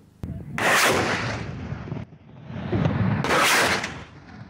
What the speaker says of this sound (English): As we filmed, shells began falling all around